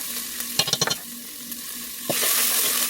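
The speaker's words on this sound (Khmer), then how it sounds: "ឆាវាទៅមក គោក" Chicken stir-fried with Thai curry paste in a pan: a quick flurry of scraping stirs, then a loud, steady sizzle that swells near the end, with no talk.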